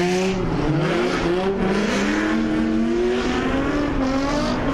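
A loud race car engine roars past with a high, wavering whine that climbs and dips, filling the air with steady mechanical noise.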